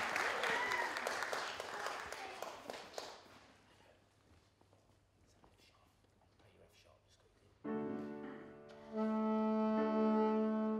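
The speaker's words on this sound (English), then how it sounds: "let's give a large round of applause to our first performer, Austin, on the saxophone." Audience clapping at a Year 5 school informal concert, a burst of many hands applauding that fades away over a few seconds, followed by quiet room noise and then a saxophone starting to play.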